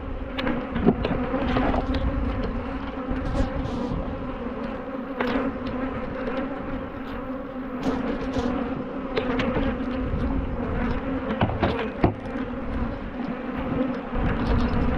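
Angry honey bees swarming around an opened hive after a colony split, a dense continuous buzz from many insects close by, with occasional louder individual bees passing near.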